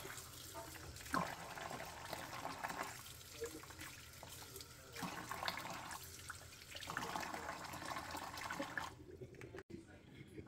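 Mint leaves rinsed under running tap water in a kitchen sink, a steady splashing stream with rising and falling surges as the leaves are moved, ending abruptly with a clunk.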